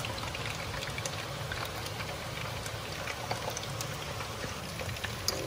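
Beaten egg mixture poured into a pan for tofu-and-egg with chilli soy sauce, a steady low trickling pour running for several seconds at moderate, even loudness without talk.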